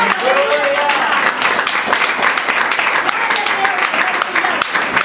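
A church congregation applauds with steady, dense clapping for about five seconds, while a voice calls out over the crowd.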